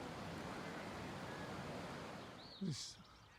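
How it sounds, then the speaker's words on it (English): River water swollen by weeks of heavy rain rushes past in the Cotswolds countryside, a steady broadband roar with some wind buffeting on the microphone and a brief louder disturbance near the end. "There's a fair bit of water flowing."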